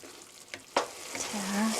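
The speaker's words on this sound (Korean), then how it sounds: "이렇게 살살 저어주시고요." Mapo tofu sauce thickened with starch stirred gently in a pan, a few brief scraping strokes over a low simmering sizzle, near and fairly quiet.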